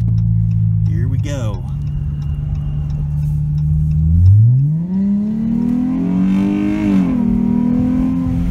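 A Chrysler 300 with the 3.6 Pentastar V6 and a new intake kit, heard from inside with windows down: a loud steady engine drone rises as the car accelerates, with wind and road noise.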